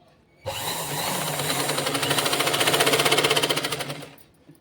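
A sewing machine stitches a pocket onto a dress, running in one steady burst of about four seconds with a rapid, even mechanical chatter that speeds slightly toward the end before stopping, close and loud, with no talking.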